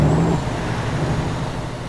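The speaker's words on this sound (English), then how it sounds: "Kenworth W990 pulling a Kenworth trailer." A Kenworth W990 truck pulling a Kenworth trailer in a driving game, its engine giving a steady low diesel drone with no talk over it.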